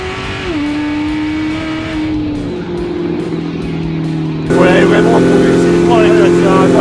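A Fiat Multipla tuned to 1294 hp is doing a burnout, its engine droning at a loud steady high pitch that steps up to a higher roar partway through, with voices talking over it.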